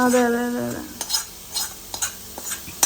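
Cooked tender jackfruit being stirred in a pan, a few distinct scraping strokes of a spoon against metal over a light sizzle, preceded by a brief tonal clatter, close up and without speech.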